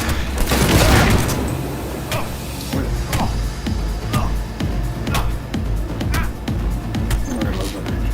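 Heavy gunfire in the Cyberpunk 2077 video game, a dense burst of shots and booms early on followed by steady rapid crackling fire, loud and close, with low rumble and some voice mixed underneath.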